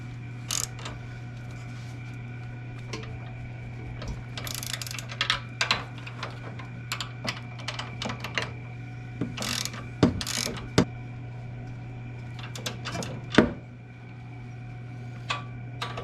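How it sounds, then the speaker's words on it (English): Ratchet wrench tightening the upper control arm bolts on a 1981 Toyota 2WD pickup, scattered bursts of clicking over a steady low hum, with a few sharper metallic knocks near the end. "I gotta tighten these down"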